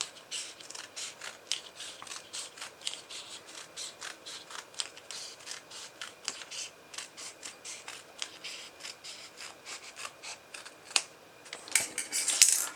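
Scissors snip repeatedly through material while trimming a boffer pommel, a steady run of close, crisp cutting strokes with short pauses, ending in a few louder snips.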